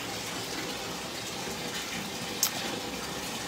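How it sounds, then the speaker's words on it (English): Tap water pours steadily into a large garden bathtub being filled to soak oven racks, giving an even, continuous rushing gush heard alone at close range. "I have got it filling up with water"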